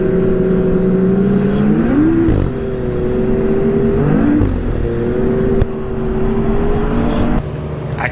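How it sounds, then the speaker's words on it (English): A 2024 Gen 5 900 ACE Turbo R snowmobile engine revs loudly and close, with a steady drone and pitch dips and swells as the throttle is blipped and released through the blow-off valve. "this thing here just sounds so good, like with that blow-off valve"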